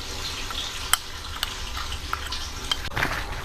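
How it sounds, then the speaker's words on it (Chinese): Soy sauce hitting a hot pot of pork belly and frying as it is stirred, a steady low sizzle broken by sharp clicks of a utensil against the pot, with no talking. "酱油啊，往里倒，炸熟炸香的酱油。"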